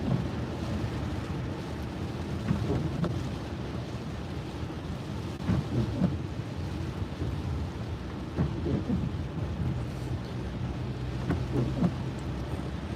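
Steady rain drumming on a car while driving, with a broad continuous hiss and occasional low rumbles and louder splashes, no talk.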